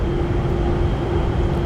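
A new Docklands Light Railway train runs through a tunnel, giving a loud, steady rumble and roar with a constant tonal hum and no break in the noise.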